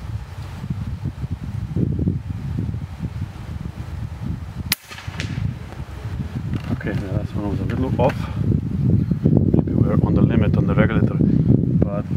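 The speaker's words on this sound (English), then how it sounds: "keep in mind that we have some wind, not too bad" Outdoor wind buffets the microphone as a steady low rumble throughout an airgun shooting session, with one sharp click or shot partway through and faint rustling.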